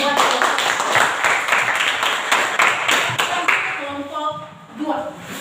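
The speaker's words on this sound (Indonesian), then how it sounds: "berikan tepuk tangan buat" Classmates clap for a student group in a classroom, with distinct rhythmic hand claps ringing out for several seconds before tapering off as voices begin speaking.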